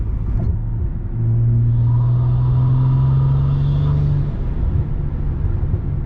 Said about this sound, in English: right as it gets to that 2500 3K RPM, this thing just totally opens up